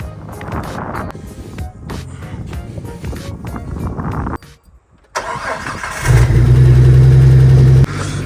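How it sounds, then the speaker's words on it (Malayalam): A jeep engine being started: the starter cranks loudly up close, there is a brief pause, then the engine catches and roars into a steady, loud running drone. "നമുക്ക് പയ്യെ ജീപ്പ് ഒന്ന് സ്റ്റാർട്ട് ചെയ്യാം."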